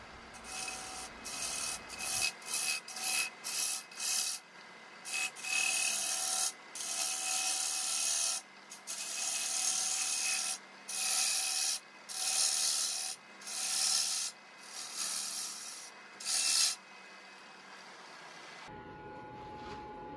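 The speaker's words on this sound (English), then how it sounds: "Now I'm just hogging out a bit more material to remove some of that internal mass." A gouge hollowing out the inside of a rectangular wooden bowl on a lathe, heard close up as repeated rasping, rubbing cuts in short bursts with brief pauses, ending with a different quieter hum.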